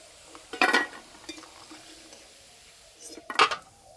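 Fried mini gulab jamun are lifted out of a pan with a metal utensil, giving two distinct clattering scrapes and clinks about three seconds apart over quiet background, close by.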